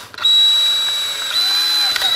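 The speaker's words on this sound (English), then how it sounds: "This is a 9/64 inch drill bit." Power drill boring a hole with a 9/64 inch bit for a controller rapid fire mod, a steady high whine running continuously, close and loud, with a brief dip near the end.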